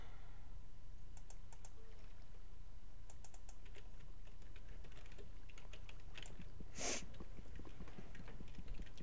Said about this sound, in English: I'm back to my old keyboard again.